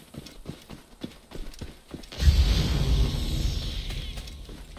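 A donkey's hooves clip-clop in Assassin's Creed Origins, soft rhythmic steps at first, then masked by a louder swell of ambient game noise.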